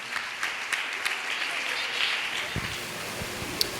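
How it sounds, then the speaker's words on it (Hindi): A church congregation claps steadily to welcome the preacher, a dense patter of many hands with a few sharper claps standing out, filling the whole moment without speech. "आइए प्रभु के दास को भी हम ताली बजा करके स्वागत करते हैं"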